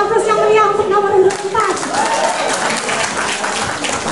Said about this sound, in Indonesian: Berikan aplaus yang meriah untuk nomor urut